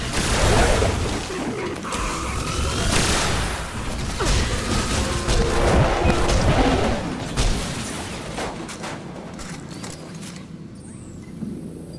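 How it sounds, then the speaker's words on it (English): Fusion rifle shots in Destiny, a series of loud charged bursts and crashing impacts packed into busy game combat noise that builds and churns for several seconds before thinning out near the end. "Let's go say hello with our fusion rifle here"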